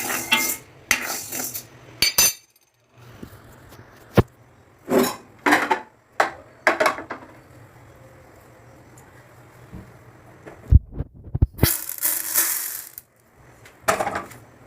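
Urad dal is dry-roasted in a pan for paruppu podi, with intermittent rattling and scraping as the lentils are stirred and tossed against the metal, in sharp bursts separated by quiet stretches.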